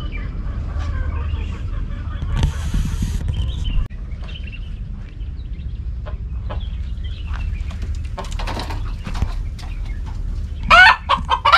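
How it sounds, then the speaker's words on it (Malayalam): Native country chickens clucking at moderate distance in a quiet outdoor spot, with scattered calls, a sharper close squawk near the end and a low steady background rumble. "നാടൻ കോഴി"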